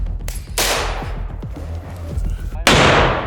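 Grenades go off during a military brigade's assault training in a forest, clearing fortified positions: two loud, sharp blasts with decaying rumbles, separated by scattered crackling gunfire.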